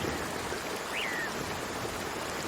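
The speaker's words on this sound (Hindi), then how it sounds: "अरे बाप रे, अब तो बारिश का पानी मेरे घोंसले तक आ गया।" Rainwater in a cartoon jungle, a steady wash of flowing water and rain noise that fills the whole moment, with one faint brief bird-like chirp above it.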